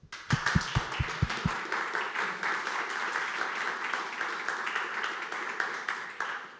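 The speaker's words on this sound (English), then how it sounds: "let's go with a round of applause." An audience at an AI tech talk gives sustained applause. A few sharp, distinct claps at the start swell into dense, even crowd clapping that lasts several seconds without a break.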